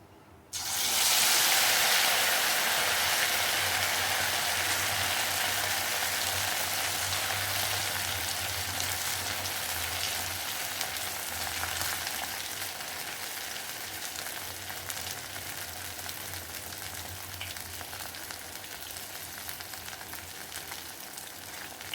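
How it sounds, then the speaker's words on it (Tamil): Idli pieces are dropped into hot oil in a kadai and deep-fry for chilli idli with a sudden loud rush of sizzling, then a dense, steady crackling fry that continues throughout with no talk. "இப்போ இட்லி எல்லாத்தையும் பொரிச்சு எடுத்துக்கலாம்."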